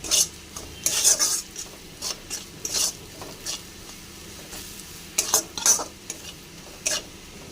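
Katla fish frying with turmeric and salt in a pan, a low sizzle under repeated scraping strokes of a utensil against the metal, coming in irregular clusters of sharp, close clicks and scrapes.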